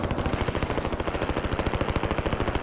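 Rapid automatic gunfire in Call of Duty Warzone, a loud, sustained burst of evenly spaced shots rattling on for several seconds.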